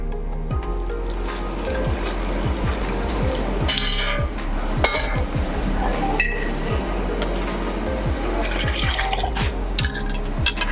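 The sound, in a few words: water being poured into a pot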